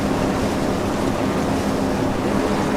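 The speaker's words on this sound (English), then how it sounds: "We're at full speed here, or full throttle, going 24 knots in this choppy sea." A ship runs at full throttle, about 24 knots, through choppy seas in the video game Seafarer: The Ship. A steady, loud rush of water and engine noise carries on without pause, and no one speaks.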